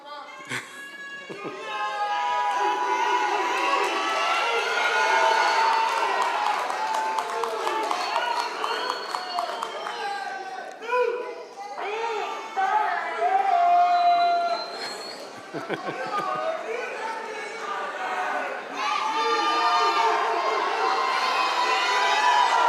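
Crowd at a high school commencement ceremony cheering and shouting loudly, with whoops, scattered clapping and excited voices swelling and dipping over a long stretch, near and energetic.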